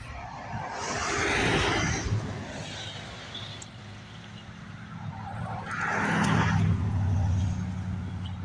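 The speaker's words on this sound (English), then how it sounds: "Traffic noise." Road traffic rumbles past a fall vegetable garden, a steady broadband roar of cars swelling and fading as vehicles pass at moderate distance, with no talking.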